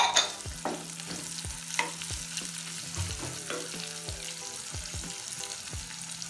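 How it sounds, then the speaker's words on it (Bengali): Sliced green chilies fry in a pan for a Bangladeshi tomato and royna fish dish, giving a close, steady sizzle broken by repeated scraping stirs of a utensil against the pan. "আমি কাঁচামরিচ দিয়ে দিচ্ছি, কিছু ফালি করে রেখেছিলাম এগুলো এখন দিয়ে দিচ্ছি।"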